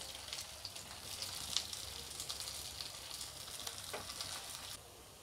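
Sago vadas fry gently in a shallow spoonful of oil over a low flame, a steady soft sizzle and crackle close up with occasional louder pops, and no talking.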